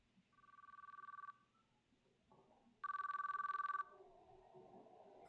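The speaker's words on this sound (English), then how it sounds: "My phone was making a noise in my pocket." A mobile phone in a pocket rings in the video game Chaos Child: two bursts of a bright electronic ringtone separated by a pause, fairly quiet and with no voices.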